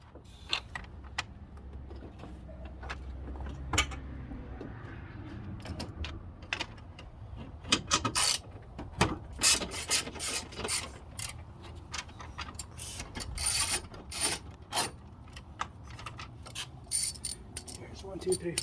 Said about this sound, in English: I'm removing the 4 bolts that are holding the grille in the middle